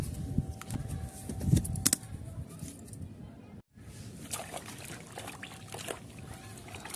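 Fungicide water with Rootex poured from a basin onto the roots of a newly planted rose, a soft trickle and splash close by, broken by a brief pause.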